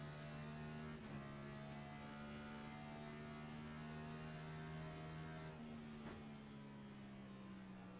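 NASCAR Next Gen race car at Gateway in a sim racing hot lap, engine holding a steady tonal drone with brief dips and pitch shifts near one and six seconds as throttle changes, fairly quiet and continuous.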